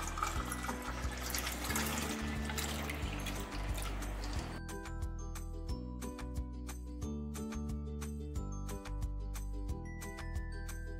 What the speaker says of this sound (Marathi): आता थंडगार पाणी घालून